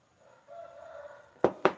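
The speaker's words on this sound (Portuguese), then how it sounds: "E é o galo cantando." A rooster crows once at a distance, a thin drawn-out call, followed by two short, sharper clucks or bursts close by in otherwise quiet surroundings.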